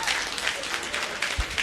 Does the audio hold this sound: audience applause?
yes